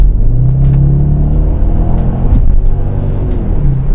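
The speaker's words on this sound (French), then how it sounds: "tu écrases pédale de gaz, tant que tu n'es pas dans le rouge, elle passe pas le rapport suivant" An Audi RS6 C5 estate accelerates hard with the throttle floored, its engine giving a loud, continuous, close rumble with a brief shift in tone partway through, and no voices.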